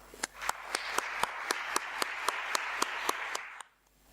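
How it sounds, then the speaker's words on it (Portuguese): Audience applause at a sustainability symposium: a steady round of clapping with regular sharp claps for about three and a half seconds, then it stops abruptly. "Uma salva de palmas."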